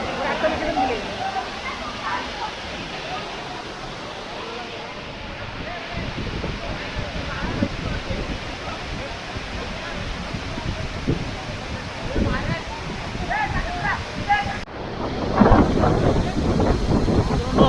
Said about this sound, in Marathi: मस्त आहे धबधबा